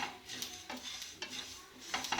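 Faint, scattered pops and crackles of sesame seeds roasting in a pan over a low flame, with soft stirring scrapes between them.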